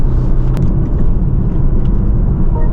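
A BMW M340i engine roars steadily under throttle, a deep, loud, continuous rumble heard close with no talk over it.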